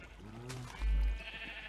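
A sheep in a video game gives a single short bleat, fairly faint, over a low background hum with a dull thump just after.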